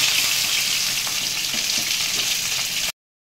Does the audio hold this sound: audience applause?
no